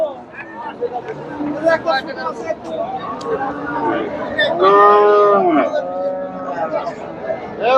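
Friesian bulls at the busy Chandaikona cattle market in Sirajganj let out a loud, drawn-out moo midway, set against a constant hubbub of crowd chatter and nearby voices.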